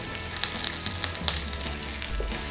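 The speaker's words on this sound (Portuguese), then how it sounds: "já vou colocar os aspargos a grelhar aqui também" Asparagus spears dressed with a light drizzle of olive oil and a pinch of salt sizzle on a hot grill, a steady close crackle with small pops.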